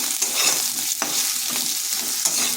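Fish curry being stirred in a hot pan, a steady sizzle of frying with scraping spoon strokes at irregular intervals, close and continuous with no talking.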